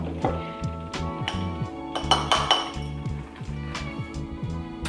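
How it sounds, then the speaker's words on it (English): Spent loose tea leaves being dumped into a bowl, heard as a run of close clinks and knocks of ceramic and metal, repeated taps at a rough, uneven rhythm with a low hum beneath. "let's dump out the actual loose tea and see what we see."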